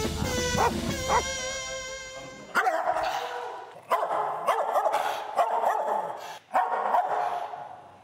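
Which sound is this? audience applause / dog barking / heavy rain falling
dog barking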